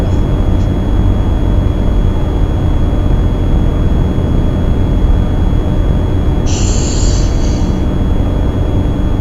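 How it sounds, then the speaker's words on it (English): A deliberately distorted THX Deep Note is rendered as a dense, loud, unbroken roar of rushing noise like an airplane taking off, steady throughout with a brief high whistle near the end. "Sounds like an airplane taking off."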